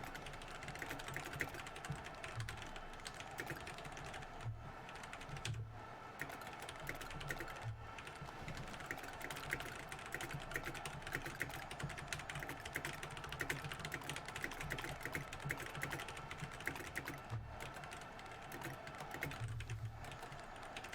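Steady, continuous typing on a computer keyboard throughout, a fast run of soft key clicks with brief pauses, fairly close but quiet, with no voices.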